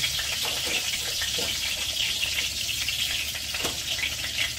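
Dry red chillies and whole cumin seeds frying in hot oil for khichuri, giving a continuous bright sizzle with a few soft stirring knocks, close and fairly loud, no voices.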